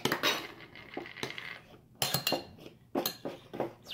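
Lasagna ingredients seasoned with nutmeg being mixed in a bowl, with clinking and scraping of a utensil against the dish in irregular bursts, close and fairly quiet.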